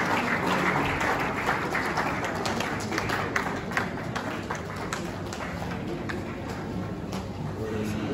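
An audience at a Rivers State government event applauds after a speech delivered on the Governor's behalf, a dense, sustained patter of many hands clapping at moderate distance with scattered louder claps.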